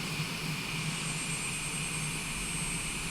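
A light aircraft's engine drones steadily in flight, heard as a constant broadband roar with a sustained tonal hum from inside the cabin, at moderate level with no talking.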